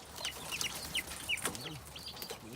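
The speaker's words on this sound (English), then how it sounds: "We got all the little chickens." Small chickens clucking close by at a house yard, several short soft clucks and chirpy calls scattered through a steady outdoor background.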